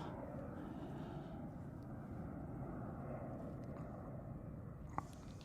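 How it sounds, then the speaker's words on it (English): Airplane taking off from Queenstown Airport in winter, a steady broad engine roar heard from a distance, holding evenly throughout with one brief click near the end. "That was a bit of a late takeoff."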